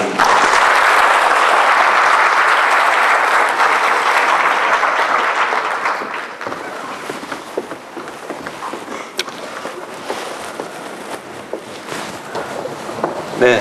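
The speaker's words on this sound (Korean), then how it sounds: "큰 박수로 응해 주시면 감사하겠습니다" An audience gives a lecturer a warm welcome at a talk on electronic litigation: loud, dense applause holds steady for about six seconds, then thins into scattered claps and shuffling.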